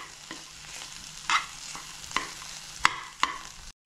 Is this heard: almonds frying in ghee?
yes